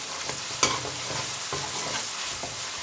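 Tomatoes and green chilies stirred in a pan, a soft steady sizzle with a sharp utensil clink near the start and a few quieter scrapes, close and without talk.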